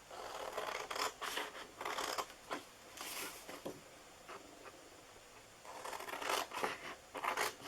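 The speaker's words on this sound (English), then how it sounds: "we're just going to cut these corner pieces off. So you're going to cut all 4 corners off." Scissors snipping through paper to trim the corners off a paper Christmas tree treat box, close and moderately soft, in several short cutting strokes separated by pauses, with no talking.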